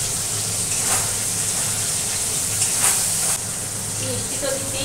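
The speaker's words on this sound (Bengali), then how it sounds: "আর বাঁধাকপিতে দিয়ে দিই একটু আদা ফোড়ন।" Cabbage sizzles steadily in a pan as ginger tempering goes in, a moderate close hiss with faint clinks and kitchen noise.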